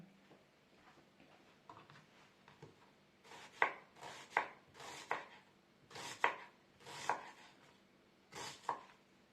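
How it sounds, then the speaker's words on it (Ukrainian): A knife dices an onion on a board in a run of about eight crisp, evenly spaced strokes, close and distinct against a quiet room. "Цибулю я наріжу кубиком"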